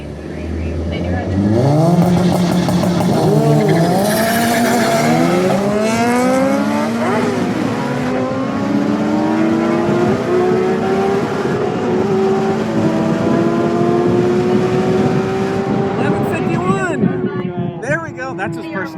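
Turbo AWD Eagle Talon on a drag racing run, engine revving hard and climbing through gears with rising pitch sweeps, loud and close, with voices and crowd noise mixed in.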